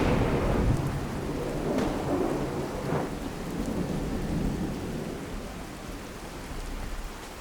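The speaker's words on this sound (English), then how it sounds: "that storm sounds genuinely angry. Like there's a roar to the thunder" A thunderstorm in the Fallout 4 video game, with steady heavy rain hissing throughout and deep rolling thunder rumbling low beneath it. Thunder swells a few times across the stretch, loud and close, with no voices.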